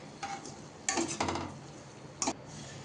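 Carrot halwa being stirred in a pan, giving a few scattered utensil scrapes and clinks against the metal, with two louder bursts standing out against quiet kitchen background.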